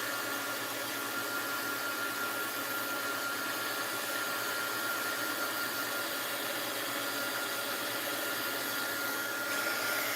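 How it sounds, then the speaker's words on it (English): A heat gun blows hot air steadily over a mixed-media card, a loud constant whooshing hiss that holds unbroken for the whole stretch with no talking. "heat gun"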